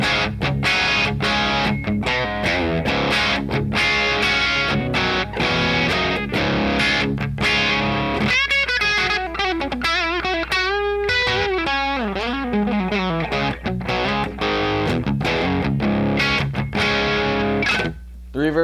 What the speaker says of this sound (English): This amp is not as clear as I would like it to be. I have it switched to the crunch setting now.